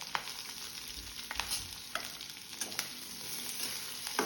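Chopped onion, curry leaves and green chili sizzle in hot oil with mustard seeds and cumin, a steady close frying hiss broken by occasional spoon scrapes and pops, no speech.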